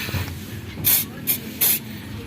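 Asphalt remover sprayed from a nozzle onto asphalt, three short sharp hissing bursts, close and loud, the middle one briefest, over faint background noise.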